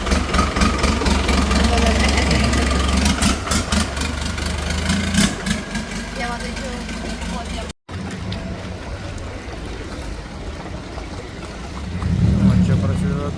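A boat engine idles and runs at a Thai floating market, a loud, steady low rumble with mechanical chugging, briefly cutting out midway before resuming more quietly under background voices.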